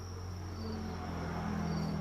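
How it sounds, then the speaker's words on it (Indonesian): Two-week-old crickets in a breeding box give off a faint, continuous high chirring with a low steady hum beneath it. No voices are heard. "Ini untuk jangkrik usia 2 minggu seperti ini."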